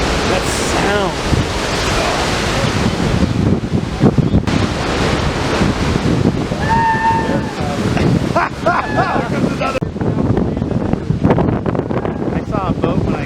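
Huge ocean waves surging and crashing around Morro Rock on the coast, a continuous roaring wash of surf with heavy wind buffeting the microphone and occasional voices mixed in.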